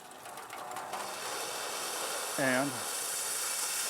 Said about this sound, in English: so you can see now we're making steam